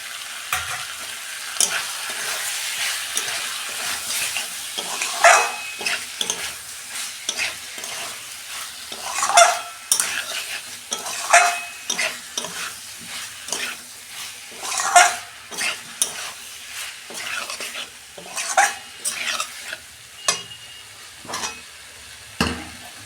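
Shrimp frying in a hot pan with cauliflower masala gives a loud, close sizzle, broken by repeated rhythmic scrapes and stirs of a spatula throughout, with no voices.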